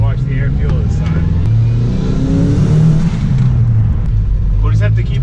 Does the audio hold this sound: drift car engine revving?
yes